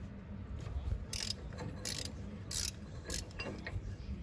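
Half-inch drive ratchet loosening the transaxle filter on a John Deere X540 tractor, with quiet repeated ratchet clicks in short bursts over a steady low background hum.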